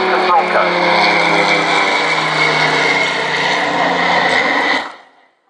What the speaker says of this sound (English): From the right comes the Skyvan and Bronco.